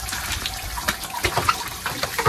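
Running water pours and splashes nearby in a city neighbourhood, a steady wash broken by irregular louder gushing bursts, with no talking.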